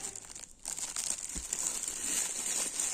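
Plastic bag holding yarn being opened for knitting, crinkling and rustling steadily at close range with a brief pause near the start, no talk.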